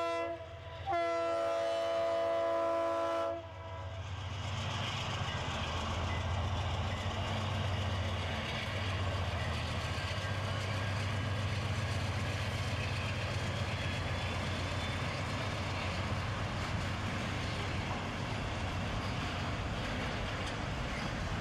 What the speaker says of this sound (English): Stack container freight train.